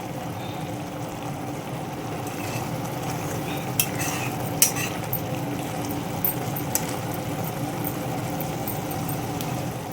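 Eggplant curry cooking in a single pot on a high flame, giving a steady, dense bubbling sizzle with a few light utensil clicks scattered through, close and continuous with no talking.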